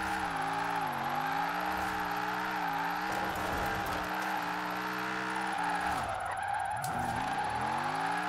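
A long Holden car in Forza Horizon 4 drifts with a loud, steady engine drone whose pitch sweeps up and down under continuous tire skidding and squeal, close and sustained throughout.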